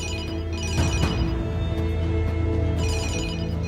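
A mobile phone rings with a repeating electronic ringtone, loud and steady over a thick, dramatic music background.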